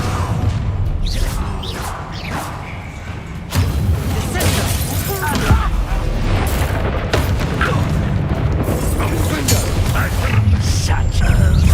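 Confringo blasting spell cast in Hogwarts Legacy, booming impacts and crashing debris over a busy stretch of game effects and music, with people talking.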